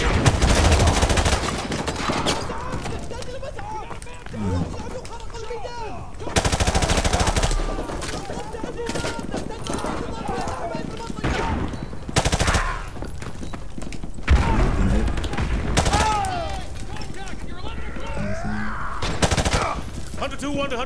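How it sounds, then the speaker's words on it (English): Heavy gunfire fills a Modern Warfare Campaign Remastered firefight, loud sustained automatic bursts and fusillades with several sharp surges and heavy thuds, and voices shout over the shooting. "We are taking heavy fire from the school."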